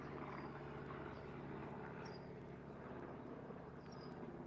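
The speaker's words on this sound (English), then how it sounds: "this is what the planes sound like all day too, though." Airplanes fly overhead as a continuous low, steady engine drone fills the background, with faint chirps of birds scattered on top.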